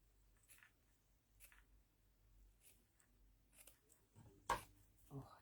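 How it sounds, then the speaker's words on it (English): Quiet, intermittent snips of scissors cutting, each a soft crisp click, spaced irregularly, with a louder snip near the end. "just listen to that, those scissors cutting"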